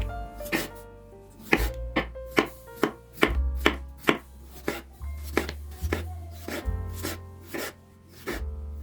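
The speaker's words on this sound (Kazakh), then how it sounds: "Одан кейін 4-5 дана орташа картопты мінекей осылай жіңішке етіп тураймыз." Thin slices being cut from medium potatoes with a kitchen knife on a board, a steady run of sharp, close chopping taps at an even pace over a low background hum.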